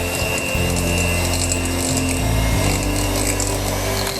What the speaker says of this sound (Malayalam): ആദ്യം വെണ്ണ ഒന്ന് ചെറുതായിട്ടൊന്ന് ബീറ്റ് ചെയ്യാം.